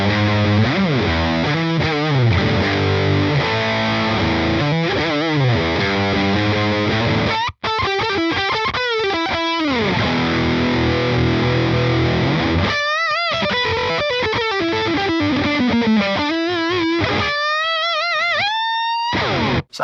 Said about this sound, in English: Push the gain all the way up though, and let's see what that sounds like.